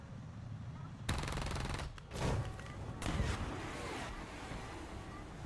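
Rapid gunfire from aircraft and vehicles in the War Thunder combat game: dense, loud bursts of machine-gun fire, with a brief gap and then more sustained firing layered over a rumbling backdrop.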